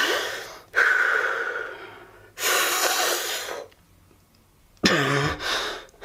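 Deep breaths taken before holding the breath: two long, loud inhales through the mouth separated by a pause, then a short third breath with a slight voiced sound, close to the microphone.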